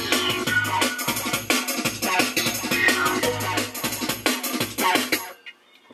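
A Korg Electribe EMX plays its stock drum and bass pattern: a loud, busy breakbeat of punchy kicks, snappy snares and dense hi-hats over a steady bass line. It runs alone for about five seconds and then cuts off abruptly.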